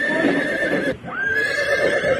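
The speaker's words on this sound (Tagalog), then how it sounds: "Yan naman kabayo." A horse neighs twice in quick succession, a bright, wavering whinny heard close and clear, with faint hoof clip-clop and no voices.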